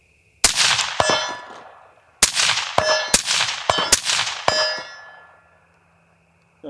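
Suppressed M1A EBR rifle in 6.5 Creedmoor firing at steel targets, sharp loud cracks each followed by ringing metallic clangs, one isolated shot then a quicker string of several hits that ring out and fade.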